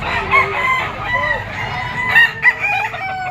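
A Boston Kelso gamefowl rooster crows several times, loud and close, at a pet market, with shorter clucks and other fowl calls mixed in over low background murmur.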